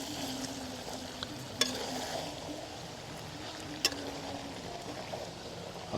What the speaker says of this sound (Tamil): பொருளை வதக்கி எடுக்கிறோம்